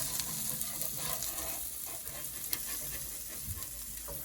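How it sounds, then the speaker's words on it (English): French toast omelette frying in a pan, a steady soft sizzle running throughout at moderate level with faint clinks, no voices. "I'm gonna let the side fried and I'm gonna flip it back over"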